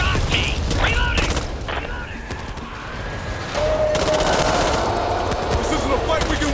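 Sustained automatic gunfire from the zombie shooter Back 4 Blood rattles loudly and continuously, mixed with game effects and voices talking over it.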